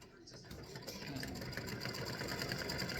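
An embroidery machine stitching a Halloween design, a fast, steady mechanical whirr that starts a little quieter and settles into a constant rhythm.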